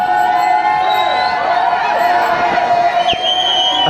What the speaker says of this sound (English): Those guys cheering them on.